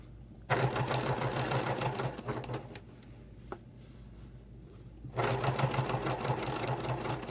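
Sewing machine stitching a wallet seam in two loud, steady runs of rapid needle chatter, separated by a quieter pause of a few seconds with a single small click.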